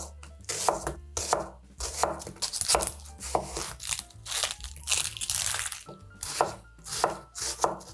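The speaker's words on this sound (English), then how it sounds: "I'll try to work my way along the onion, cutting 1/4 inch pieces all the way down" Knife steadily chopping an onion into quarter-inch slices on a cutting board for beer-braised sausages, a close run of crisp, crunchy cuts in an uneven rhythm with no talk.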